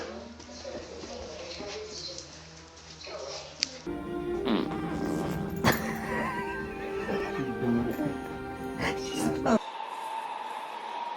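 A loud fart sound rings out among animal noises, including horse neighing and whinnying, with people talking over parts of it and abrupt shifts between scenes.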